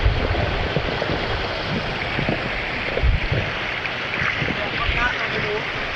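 A motorboat crosses open water near Siocon, Zamboanga del Norte, its steady engine drone blending with water rush and wind buffeting the microphone throughout, with voices faintly mixed in.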